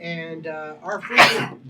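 One abrupt, loud sneeze bursts out right after a person's speech, close to the microphone.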